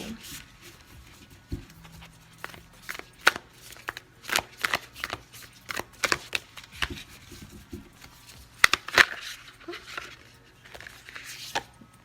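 Oracle cards are shuffled by hand, with a run of soft riffling and slapping bursts at an irregular rhythm, close and fairly quiet, with a voice speaking faintly at times.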